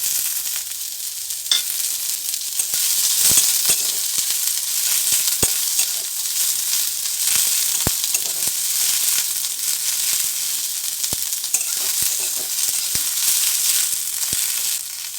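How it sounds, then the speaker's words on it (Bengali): Chopped onions frying in hot oil after bay leaves, for a jackfruit and potato curry, sizzle in a steady close hiss with scattered crackling pops throughout, with no voices over it. "এবার পেঁয়াজটা দিয়ে দিচ্ছি।"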